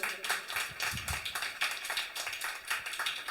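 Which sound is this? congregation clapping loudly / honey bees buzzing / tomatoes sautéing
congregation clapping loudly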